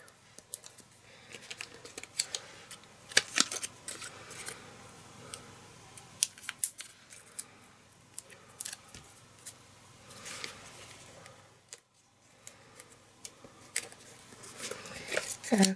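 Scissors cut paper for a craft flower, short close snips scattered among soft paper handling and rustling, with a voice talking quietly at times.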